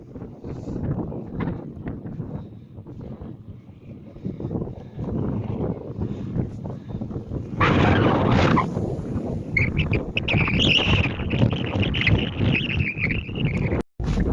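Strong, cold gusting wind off the Black Sea at Vityazevo buffets the microphone with deep rumbling roars, loud and continuous, with a surge of harsher rushing noise partway through.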